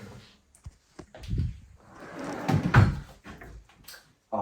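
A small drawer in a hotel room at Roza Rooms in Zator, Poland, slides open with a few soft wooden knocks and a muffled scrape, fairly close and mostly free of talk.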